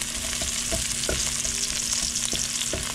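Garlic, lemongrass and onion frying in a pan under a dense, constant sizzle, with scattered soft stirring clicks and scrapes close by.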